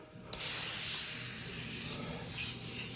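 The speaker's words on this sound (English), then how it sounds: "spray this liberally" Glass cleaner sprayed liberally from a trigger bottle onto a car during clay-bar paint work: one long, loud, steady hiss bursting in suddenly after a quiet start and holding close to the end, with no talk.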